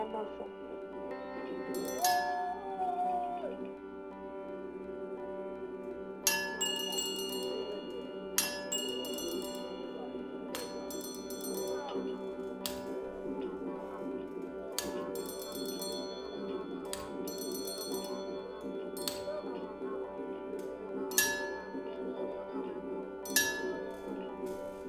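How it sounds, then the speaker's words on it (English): Bells are struck one at a time, each a bright ringing hit with a long sustained tone, spaced several seconds apart over a steady droning background with a little talk. "What do you think of these bells, Erica?"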